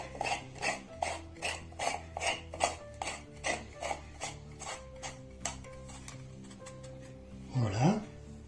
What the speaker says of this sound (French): on va visser la petite coupelle sur la cartouche de filtration.